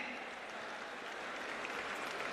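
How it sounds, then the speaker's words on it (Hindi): Sustained applause from an audience at a public honouring ceremony, a dense even wash of clapping heard from a distance at moderate level. "जोरदार तालियां बजाते रहें इन सब के सम्मान में"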